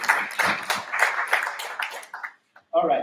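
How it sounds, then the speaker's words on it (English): Audience members clap at a criminal justice administration event, brisk bursts of applause that thin out and stop, followed by a short, loud sound after a brief silence. "So please, another round of applause."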